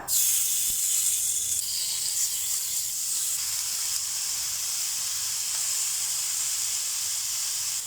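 Marinated prawns sizzle in melted butter in a hot pan on a grill, a steady close hiss running throughout with no talk.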